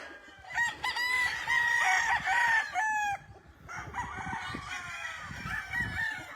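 Roosters crow loudly and repeatedly on a large chicken farm in Magdalena, Laguna, Philippines, with overlapping nearby crows and a second bird answering after a short pause.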